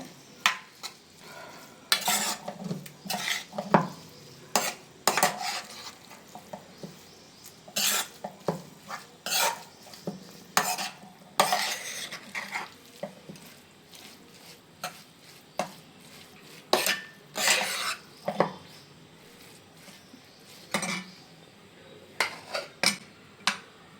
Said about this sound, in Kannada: ಗೊಜ್ಜಿಗೆ ನೀವು ಅನ್ನವನ್ನು ಹಾಕಿ ನೀಟಾಗಿ ಕಲಿಸ್ಕೊಬಿಡಿ